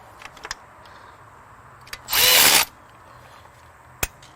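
A power tool snugs down intake bolts on an OBS Ford F250, one loud close burst of about half a second, framed by a few light clicks and a sharp tap afterward.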